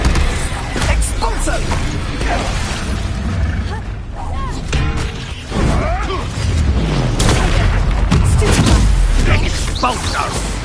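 Expulso explosion spell from Hogwarts Legacy going off in a dense stretch of booming blasts and thuds, loud and sustained, with game noise throughout.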